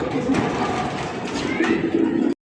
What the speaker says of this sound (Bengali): মাত্র 2000 টাকা কিন্তু আপনারা হোয়াইট কালার লাহুড়ি কবুতর পাইতেছেন